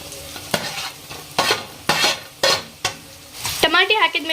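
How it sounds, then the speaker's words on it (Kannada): Onions and curry leaves sizzle and fry in a pan while a utensil stirs them in repeated scraping strokes, close and fairly loud, with no talk. "ಒಂದು ನಾಲ್ಕರಿಂದ ಐದು ಎಲೆ ಕರಿಬೇವು ಹಾಕೊಳ್ಳೋಣ್ರಿ ಹಾಕೊಂಡ್ರಿ ಪೂರ್ತಿ ಮಿಕ್ಸ್ ಮಾಡ್ಕೊಳ್ಳೋಣ್ರಿ"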